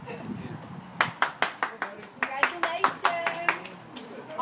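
A small group of people claps in a quick, uneven burst of sharp hand claps after a short lead-in, with a voice faintly audible beneath, close and moderately loud.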